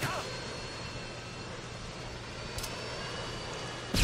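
A chopper gunner helicopter in Call of Duty, during a team deathmatch on the Rundown map, gives a steady, continuous whirring drone with a few brief sharper bursts of game noise.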